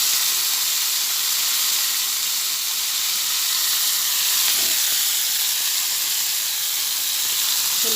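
Green chilies sizzle in hot oil in a pan for fish-head curry, a loud, close, continuous crackling hiss that holds steady throughout with no talk.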